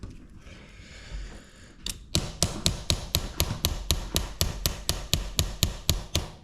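Steady, evenly spaced hammer taps on parts of a Traxxas Sledge RC truck, about four per second, sharp metallic knocks close by after a brief quieter start.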